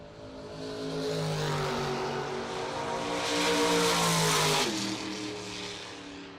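Race cars in a 64-car race roar past in a loud, sustained engine drone that swells, peaks and then drops off as they pass, heard from nearby with no talk.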